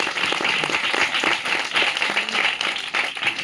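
An audience at a Christian sermon clapping loudly together, a dense, continuous wash of applause holding at a steady level throughout with no voices standing out.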